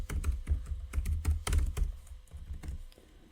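Close, crisp keystrokes on a computer keyboard come in quick uneven runs while someone types program code, thinning out toward the end.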